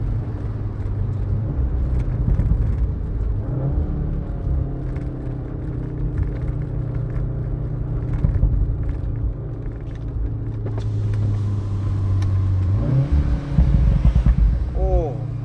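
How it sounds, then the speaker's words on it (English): A Volkswagen Golf 7.5 R with a 228 kW DSG drivetrain rumbles steadily from the exhaust while driving, with engine tone rising and falling under road and wind noise. "Oh, that exhaust, man."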